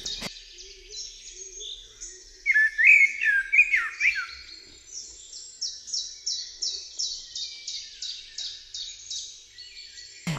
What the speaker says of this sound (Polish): ten skomplikowany, piękny, fletowy odgłos wilgi niektórzy mylą z odgłosem kosa